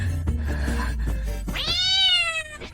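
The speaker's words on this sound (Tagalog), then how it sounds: "Nandito ang pusa." A cat gives one clear, drawn-out meow near the end, close and loud, after a few soft thuds and low rumbling.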